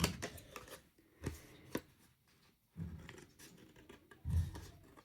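Scissors snip toward a line on a DIY book club folio craft project, several short crisp cuts separated by quiet pauses, close up with no talking.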